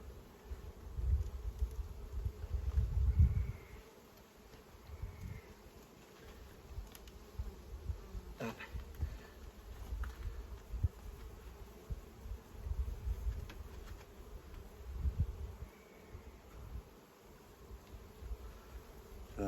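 Honeybees hum steadily in an open hive headed by a Cordovan queen, a low, close, continuous buzz that swells and fades with individual bees passing near, with no talk over it.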